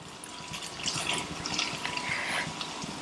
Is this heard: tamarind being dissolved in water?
yes